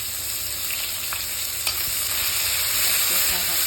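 Onions sizzling and frying in a pan for an Assamese-style egg curry, a steady close hiss with occasional stirring scrapes and no voices.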